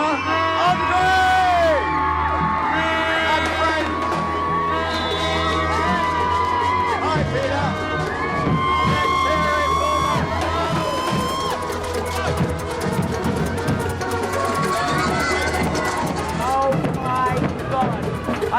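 A large outdoor crowd cheers, whoops and yells for a parade float, a dense sustained roar with music underneath throughout.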